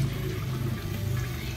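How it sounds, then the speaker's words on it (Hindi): Lukewarm water poured little by little into onions and spice masala frying in oil makes a steady, close hiss and gurgle with no break. "देखिए नीम गर्म पानी है ये मैं थोड़ा थोड़ा डाल के इसको भून रही हूँ।"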